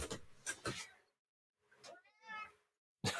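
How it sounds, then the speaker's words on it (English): A pet cat meows from outside a closed door, several drawn-out calls spaced across a few seconds, slightly muffled and mid-distance, with stretches of quiet between them. "my cat, he is outside the door meowing"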